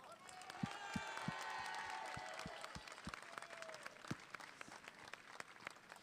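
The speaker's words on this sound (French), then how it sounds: "Je voudrais, dans un premier temps, qu'on applaudisse très fort Marion Maréchal." A crowd at a French political rally bursts into sustained applause, dense clapping with cheers and whistles that gradually thins out, while a voice carries on over it.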